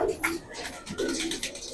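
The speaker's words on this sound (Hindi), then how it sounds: "तो देखिए दोस्तों, ये है कास्ती कबूतर" Kasti pigeons, an old breed kept by a pigeon fancier, coo in soft low repeated phrases close by, several overlapping calls with brief gaps, alone without speech.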